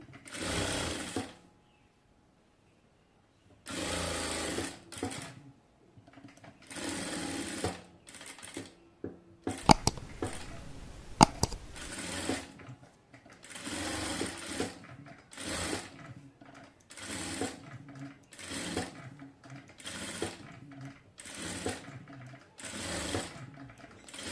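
A sewing machine stitches the side seam of a designer baby frock, running in repeated close bursts of rapid mechanical whirring separated by short pauses, with no voices.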